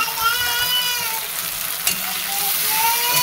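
Chopped tomato and onion sautéing in a pan for a Marathi bhindi (okra) sabzi, a steady close sizzle with faint stirring scrapes running through the whole stretch, no voices.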